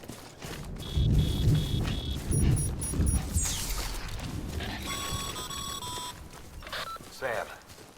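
Timefall rain and rumbling thunder in the video game Death Stranding, a low rolling rumble mixed with game beeps and electronic tones, and a voice speaks at times over the storm.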